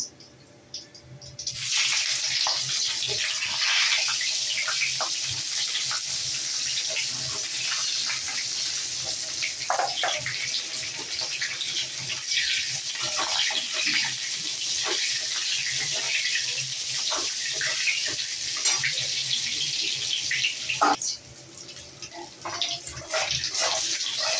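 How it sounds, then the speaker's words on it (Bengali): Eggplant pieces fry in hot oil tempered with dried red chilli and cumin seeds, giving a loud, sustained sizzle that starts abruptly and hisses on with small crackles before easing near the end. "বেগুনগুলো একটু ভেজে নেবো।"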